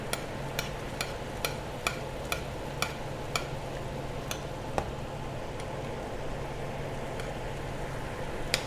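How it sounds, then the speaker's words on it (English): Morel mushrooms cooking rapidly in a pan while being basted and glazed in a sticky sauce, in a restaurant kitchen in Cambridge, UK: a steady close sizzle broken by regular sharp ticks and clinks of a spoon against the pan. "So we're concentrating all the flavours, basting and glazing the morels."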